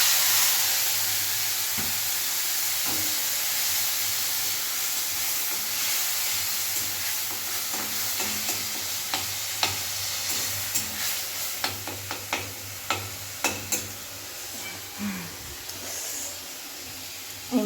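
Ginger-garlic paste and three green chillies fry in a pan with a steady, close hiss, and clicks of stirring grow more frequent and distinct toward the end.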